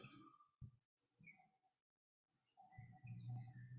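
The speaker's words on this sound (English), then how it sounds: "Focus on the bird song around me" Outdoor birds chirp and tweet in scattered short calls, faint and somewhat distant, with small bursts of song broken by a brief quiet gap.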